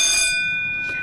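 An electric school bell rings to signal wet play, a loud sustained metallic tone with bright overtones that fades slightly over a second.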